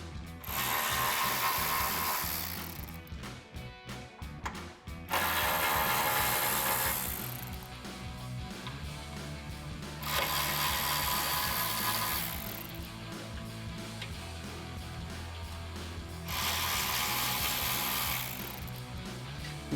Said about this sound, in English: we're going to grab our T40 Torx bit on our ratchet and go ahead and run these out.